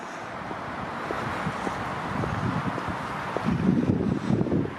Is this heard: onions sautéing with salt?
no